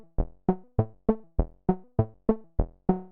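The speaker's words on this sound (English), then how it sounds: "I've set up a basic sequence patch which currently sounds like this" A basic sequencer patch on a Multiphonics modular synth plays ten evenly spaced plucked notes, each with a sharp attack and quick decay, stepping through a short repeating pattern, clean and alone.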